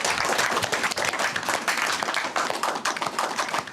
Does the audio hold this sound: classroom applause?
yes